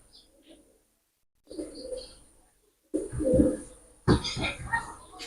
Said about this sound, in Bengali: ভিউয়ার্স দুইটা কবুতর আমি ছেড়ে দেখাচ্ছি।